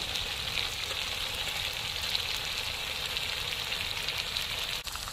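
Croaker fish fries in hot oil with an even, hissing sizzle that runs steadily throughout, close and unbroken, with no voices.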